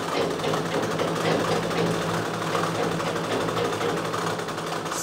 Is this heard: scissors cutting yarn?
no